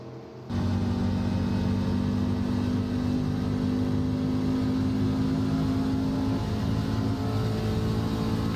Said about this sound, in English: Yep, there goes the engine.